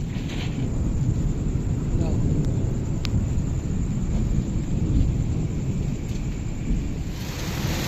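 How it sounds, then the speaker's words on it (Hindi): Heavy rain pours from dark storm clouds with deep rolling thunder, a dense, loud, continuous roar that stays steady throughout. "काले स्याह बादल हैं और बारिश देखो इतनी तेज़ आ रही है।"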